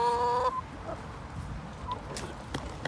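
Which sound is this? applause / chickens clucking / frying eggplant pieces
chickens clucking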